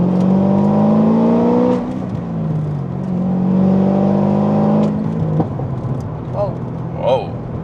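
Corvette ZR1 engine revving loudly up and down through several pulls, with a couple of sharp pops near the end, heard from inside the car as people talk over it.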